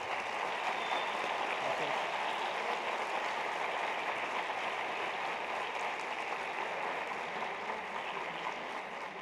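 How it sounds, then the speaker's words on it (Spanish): A crowd applauds after a talk on animal rights, a dense and even wash of clapping that holds at steady volume for about nine seconds with no clear voices. "Un fuerte aplauso, por favor."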